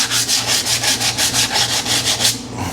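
Glazed drum brake pads on a shop truck being sanded by hand with 80 grit sandpaper, a loud, close, rhythmic scraping rasp with steady back-and-forth strokes, no voices.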